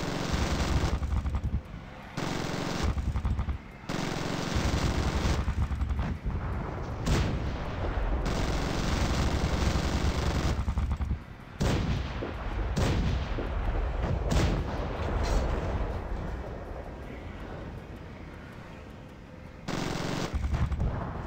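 A gunship's heavy gun firing on zombies in Zombie Gunship Survival, a loud, nearly continuous roar of rapid cannon fire with booming impacts that goes on for about twenty seconds, broken only by a few short gaps.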